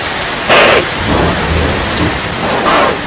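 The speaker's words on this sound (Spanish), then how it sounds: "Cuando la lluvia descarga desde el cielo" Heavy rain pours steadily during an African thunderstorm, with several deep rumbles of thunder rolling in and out over the constant hiss of falling water.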